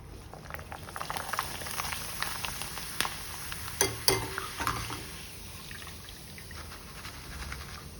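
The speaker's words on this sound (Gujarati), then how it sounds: "તો આવી રીતે બધી વેફર છે તળી લો" Potato wafers deep-frying in hot oil give a steady, soft bubbling crackle with scattered sharper pops. The sound is fairly quiet and continuous, and no one speaks.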